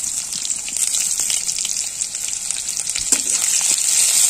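Chopped onion hitting hot oil already sizzling with whole cumin seeds for a Bengali-style egg tadka, a loud steady hiss of frying that swells slightly as the pan settles, with no talking.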